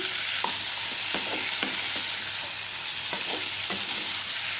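A small tomato sautés in hot oil for a potato and shallot roast, with a steady bright sizzle and soft, spaced spatula scrapes and taps against the pan.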